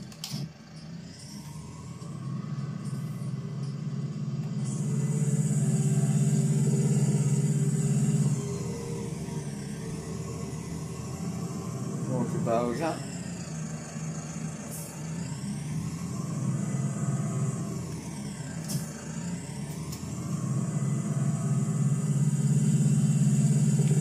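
A farm tractor engine runs steadily at close range, a continuous mid-low drone that swells and eases as revs change, with a few whining and clanking mechanical sounds over it and no talking.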